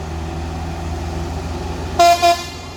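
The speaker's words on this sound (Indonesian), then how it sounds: "ini dia truk ekspedisi lagi." An expedition truck on a hill road gives two short honks near the end, over a steady low engine rumble as it passes.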